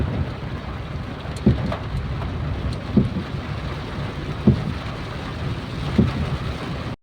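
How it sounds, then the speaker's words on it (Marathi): Steady heavy rain roars continuously, with a few soft thumps recurring at regular intervals beneath the downpour. "पाऊस खूप खूप खूप म्हणजे खूप आहे"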